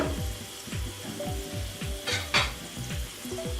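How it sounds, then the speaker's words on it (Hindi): Garlic sizzling and crackling steadily in hot oil while being lightly browned for a dal tempering, with repeated low scraping strokes of a spoon stirring the pan and a couple of sharper spits. "अब हम लहसुन को हल्का ब्राउन करेंगे।"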